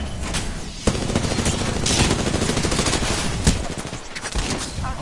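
Gunfire in a ranked online shooter match, sharp rapid bursts of automatic fire with a couple of louder cracks standing out over a constant dense barrage.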